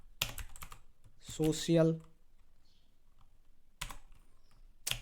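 Typing on a computer keyboard during a web development tutorial, with quick bursts of close, crisp key clicks separated by pauses, and someone speaking briefly in between.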